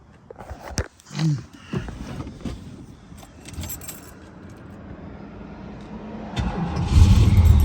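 Keys jangle close by before a 1971 Ford Mustang Mach 1 with a 429 Cobra Jet V8 cranks and fires near the end, settling into a deep, loud idle rumble.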